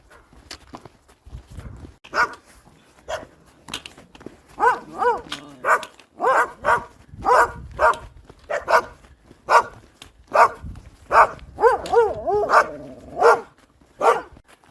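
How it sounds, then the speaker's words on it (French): Dogs bark repeatedly in a steady series of sharp yaps, fairly close, with short pauses between bursts and no talking. "Les chiens qui aboient, ça fait aussi partie du chemin."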